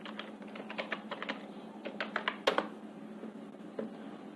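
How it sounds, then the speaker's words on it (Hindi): Fingers typing a password on a computer keyboard, a quick irregular run of close, light key clicks with short pauses and one sharper press near the middle, heard alone with no talking. "और फिर मैं अपना पासवर्ड एंटर कर देता हूँ।"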